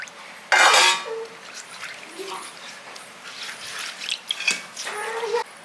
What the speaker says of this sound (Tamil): இப்போ இதிலே தண்ணி ஊற்றி